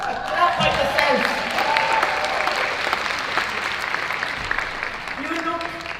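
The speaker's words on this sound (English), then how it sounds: "Clap for yourselves." A conference audience at a world gathering on women's shelters breaks into sustained applause, a dense, steady wash of clapping with brief voices heard over it.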